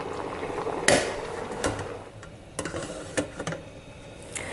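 Metal lid set onto a pressure cooker while making shredded beef, a sharp clank followed by several lighter clicks and taps as it locks into place, close and alone.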